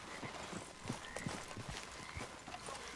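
Hooves clip-clop at a steady walking pace over a busy background of ambient noise, fairly close and moderately loud, from a horse in the video game Red Dead Redemption 2.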